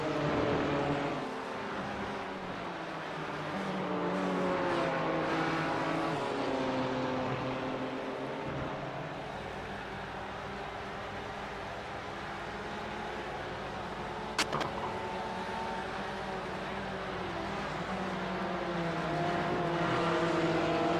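Porsche and BMW race car engines in an iRacing endurance event at Watkins Glen, a steady droning roar with rising and falling pitch as the cars run at speed, continuous throughout with no talk.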